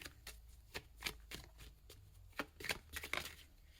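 Oracle cards shuffled by hand, a quiet series of crisp riffling flicks repeating in an uneven rhythm, close and soft with nothing else around.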